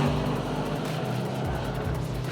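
A Bugatti Chiron or Pagani hypercar laps a racetrack, its engine a loud, sustained roar that rises and falls slightly as the car passes close by.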